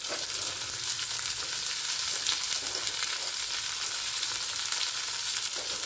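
Crushed turkey berries sauté in a pan for thokku, giving a loud, dense, continuous sizzle that holds steady from start to finish with no talking.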